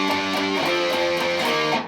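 A distorted electric guitar plays a goth metal riff, dense and sustained with shifting notes over a continuous buzzing tone, close and loud with no voices.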